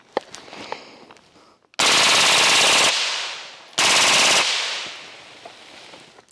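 Two long bursts of rapid automatic fire from a B&T APC 9mm submachine gun shooting at a rotten log outdoors, loud and close, each burst fading into echo, with a few faint clicks and handling noises before.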